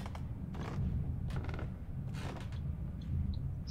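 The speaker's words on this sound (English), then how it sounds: "Creaky floors are never a good thing." Creaking floorboards in the horror video game Little Nightmares, a few slow, groaning wooden creaks spread over several seconds against a low, steady ambient hum.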